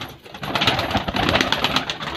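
Kalsere pigeons make a soft, continuous cooing and rustling flutter close by, with no talk.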